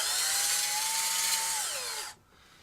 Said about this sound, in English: Drill that one .093.